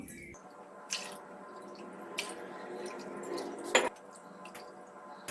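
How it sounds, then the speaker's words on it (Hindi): Water is poured into a pot of soaked kodo millet and dal, a continuous close splashing stream with scattered drips and small knocks from the pot. "इसमें हम 6 कप पानी डालेंगे क्योंकि इसमें पानी भी ज़्यादा लगता है।"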